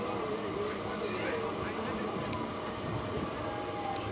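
A passenger train travels from Panskura toward Howrah, giving a steady, loud rumble and rattle of wheels and carriages that runs unbroken throughout.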